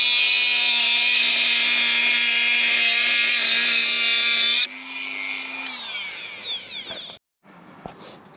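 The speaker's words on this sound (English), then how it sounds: "it's pretty easy to use the Dremel and cut the sail track" Dremel rotary tool cutting a sail track groove into a carbon fiber mast for a model sailboat, a loud steady high-pitched whine that drops in pitch partway through, then winds down and stops.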